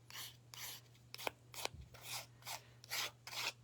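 A palette knife scrapes orange acrylic paint across a canvas in repeated short, rasping strokes, about eight distinct passes with a faint steady hum underneath and no talking.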